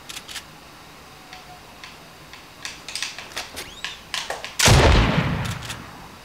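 Gunfire in Fortnite: a run of sharp, evenly spaced shots from an SMG, close and crisp, followed by a loud burst that fades out.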